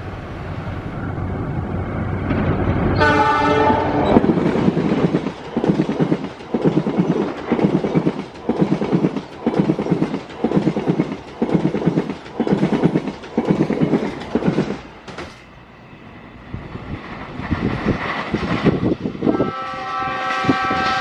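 An Argo Wilis train runs straight through track 2 at Gedebage station without stopping, loud and close, with a horn blast near the start followed by a steady rhythmic clatter of wheels over rail joints.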